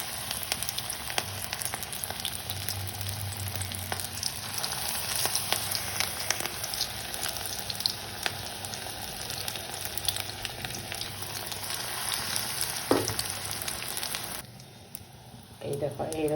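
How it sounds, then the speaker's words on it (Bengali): Batter-dipped mustard flower fritters deep-fry in oil in a wok with a loud, continuous bubbling sizzle and occasional spatula clicks, with someone talking over it at times and the frying briefly dropping away near the end. "দেখো, এই রকম করে করে আমি বড়াগুলো ভেজে নেব।"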